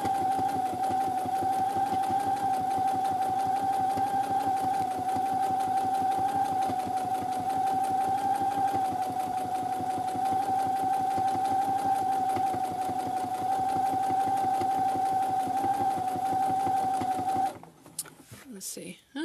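A sewing machine runs steadily for about seventeen seconds, stitching a seam on a simple fabric tote bag with a continuous close whirring hum and rapid needle clatter, then stops abruptly, leaving brief handling noises.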